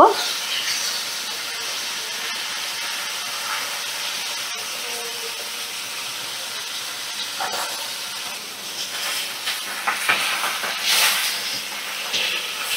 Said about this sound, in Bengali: মাছগুলোকে এবার আমি একটু উল্টে দেব। এক সাইডটা ভাজা হয়ে গেছে আর এক সাইডটা একটু ভালো করে ভেজে নেব।